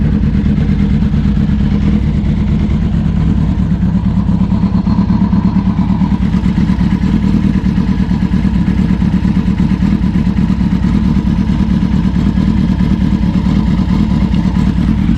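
A 2008–2010 Kawasaki ZX10R motorcycle engine runs steadily with a misfiring cylinder 4, a close, loud, continuous low throb with a rough, uneven pulse and no talk.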